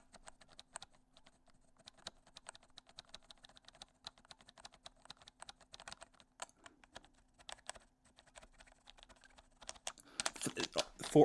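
Key presses on an HHKB keyboard, with a squeaky 5 key, as a rapid run of close, dry clicks and taps, some isolated and some in quick bursts, building to a louder flurry at the end.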